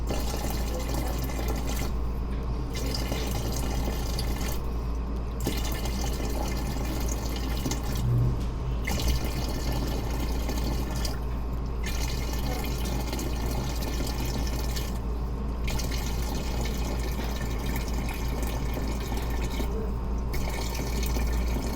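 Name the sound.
water being poured into a bottle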